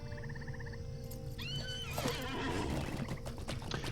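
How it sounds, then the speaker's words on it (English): A horse mount in the online game The Lord of the Rings Online lets out a loud whinny, followed by a clatter of hooves, heard over quiet ambient game music. "let's jump on our horse"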